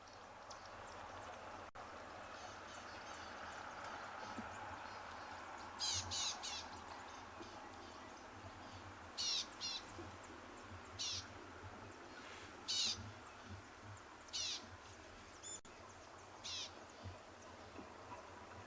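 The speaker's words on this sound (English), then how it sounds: "listen to the bird party that is around us" Several birds call in the bush around a morning safari drive in South Africa, bright chirps and chattering bursts recurring irregularly at moderate distance over a steady ambient hiss.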